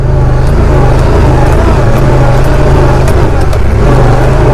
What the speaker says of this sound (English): I'm shifting to manual transmission and doing it on the sticks.